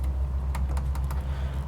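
Aircraft flaps in Microsoft Flight Simulator clicking as a quick run of four or five sharp, evenly spaced ticks over a steady low cockpit engine drone, with no talking.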